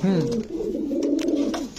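Pigeons offered for sale in pairs coo in soft, low, rolling bursts, close and clear, with a voice in the background.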